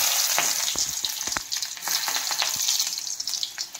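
Onion and green banana frying in a pan, a close, bright crackling sizzle with intermittent scrapes and taps of a stirring spoon over a few seconds.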